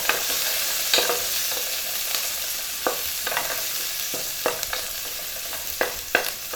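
Food sautéing in a hot pan gives a loud, constant sizzle up close, broken by spatula scrapes and taps against the pan at irregular moments.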